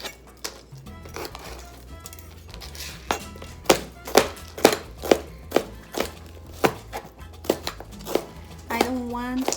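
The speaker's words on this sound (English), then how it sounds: "I will start with the red pepper. So we're just gonna quickly chop." A red pepper is chopped on a cutting board for rotini pasta salad with quick, irregular knife thunks up close, some sharp and loud, under light background noise.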